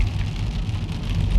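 Rain falls steadily across Yosemite meadows among pine trees as a dense, continuous hiss with a low rumble beneath, no voices.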